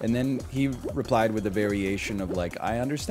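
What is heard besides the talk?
No distinct noise like a dog, phone or traffic.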